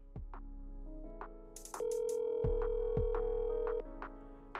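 An outgoing phone call rings unanswered, a steady electronic ring tone sounding once with a couple of soft clicks and a low hum around it, no voices.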